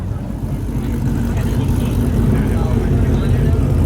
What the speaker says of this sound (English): That's how you do a burnout, Chuck.